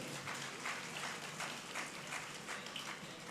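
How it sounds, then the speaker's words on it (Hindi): Faint, distant applause from an audience at a school event fills the room as a soft, even wash of many hands clapping, with no voices over it. "मैं चाहूंगा कि आप भी उन्हें तालियों से जो है उनका शुक्रिया अदा करें।"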